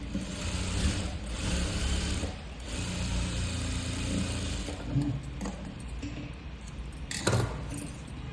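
Sewing machine running steadily while stitching a crop top, a fairly quiet continuous mechanical whir with brief pauses and a clack near the end, no talking.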